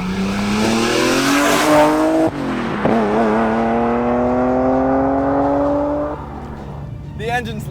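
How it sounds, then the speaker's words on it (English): An 850+ hp BMW M Coupé with a Vortech supercharger accelerates hard past, engine roaring loudly as rising supercharger whine climbs through gears with a brief shift break, then fades away, followed by a short distant squeal. "The engine's loud. You can hear the Vortech supercharger up there whining away."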